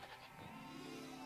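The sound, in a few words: goat bleating in a cartoon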